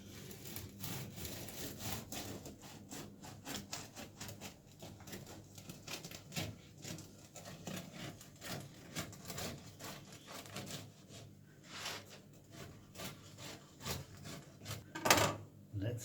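A knife sawing through a homemade burger patty and cornbread, quick repeated back-and-forth cutting strokes heard close and fairly quiet, with a few sharper scrapes near the end.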